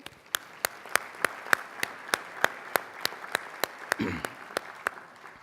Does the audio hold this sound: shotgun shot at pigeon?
no